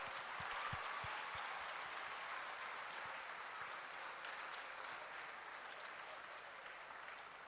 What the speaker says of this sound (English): So, applaud loud enough so that Dr. Sahoo can hear it all the way up in the heavens.